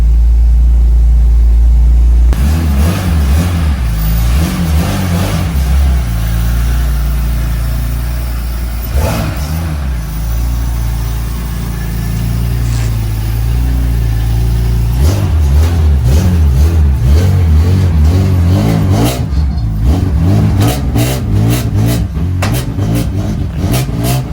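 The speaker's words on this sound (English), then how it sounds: "get this warming up" A BMW E46 M3 warming up outdoors rumbles loudly at idle, then its engine is revved in repeated bursts, rising and falling, with a steady deep drone underneath.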